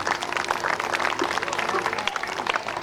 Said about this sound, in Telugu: దయచేసి అందరూ కూడా చప్పట్లతో ఆహ్వానిద్దాం